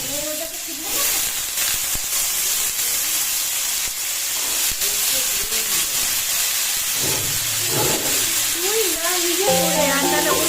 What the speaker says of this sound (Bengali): একটুখানি আলু পটল ভাজা ভাজা করে নিলাম